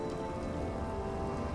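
Rain falls steadily in the video game Fallout 4, a dense, even patter on surfaces heard close and alone with no talking.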